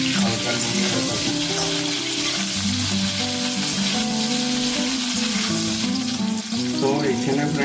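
Salted cauliflower florets fry in a pan of hot oil, a dense continuous sizzle at steady loudness throughout, with no talking.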